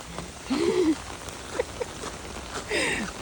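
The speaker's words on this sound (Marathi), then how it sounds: "पाऊस पडते त्याच्यामुळे" Rain falls outdoors at a house with a home fish pond, making a steady, soft hiss throughout, with a few brief voices and scattered sounds over it.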